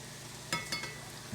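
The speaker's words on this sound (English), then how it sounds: "So you're just going to fry these up." Churros fry in hot oil with a quiet, steady sizzle and a few soft crackling pops, heard close up and alone for just over a second.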